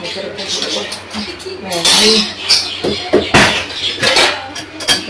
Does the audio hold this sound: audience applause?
no